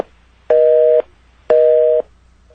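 A telephone busy signal sounds after a call is cut off during a phone counseling broadcast: two loud, steady half-second beeps separated by equal pauses, clean and alone.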